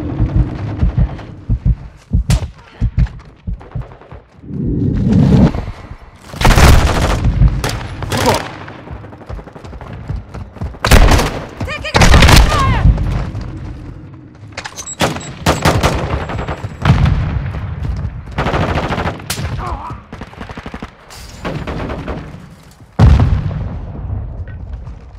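Loud, close bursts of automatic gunfire and booming impacts in the shooter Call of Duty: Modern Warfare II, clustered volleys separated by quieter gaps, with occasional shouted callouts.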